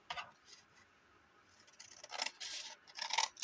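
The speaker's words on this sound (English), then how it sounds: "I'm just going to trim these just a hair." A paper trimmer blade slices through a hanging file folder in a few short scratchy passes, close and quiet, growing louder and rougher toward the end, with no talking.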